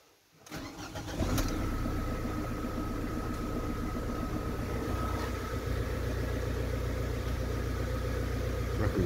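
A Ford Transit Connect van engine cranks and starts after a brief quiet moment, then settles into a steady, loud idle with a constant mechanical rumble and whine, close by with no talking.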